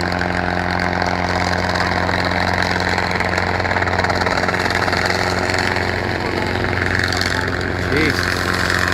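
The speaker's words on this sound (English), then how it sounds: "It's almost like it's a new engine of some sort." Steady, loud helicopter engine droning continuously at the Circus Maximus, with a constant low hum and rotor-like throb throughout and no pauses.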